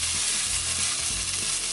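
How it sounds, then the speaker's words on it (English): Curry paste frying in hot oil in a pan for a Goan prawn curry with raw mango and okra, a loud, close, continuous hiss of sizzling with low bubbling underneath and no talking. "what I like to do is fry off my curry paste just a little"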